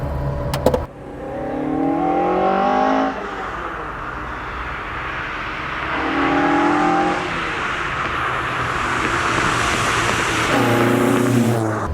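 Rebuilt Mk2 Ford Escort with a Zetec engine revs up hard several times, loud and close, with steady exhaust roar between the climbing rev bursts.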